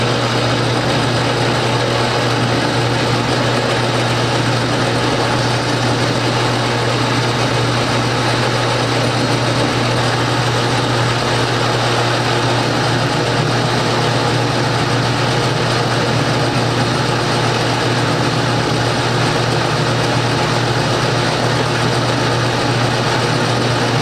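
A milling machine runs in a workshop while cutting a workpiece, giving a loud, unbroken mechanical hum with a steady low tone and a constant whirring hiss throughout, with no talking.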